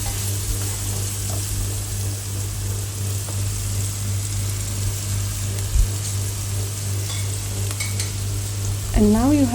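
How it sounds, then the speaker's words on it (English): Onions and peppers with cumin powder and other spices are stirred in a hot skillet, a steady sizzle with scraping from the spoon over a constant low hum and a brief bubbling swirl at the end. "Mix well so that all the spices are mixed well in the onion and pepper"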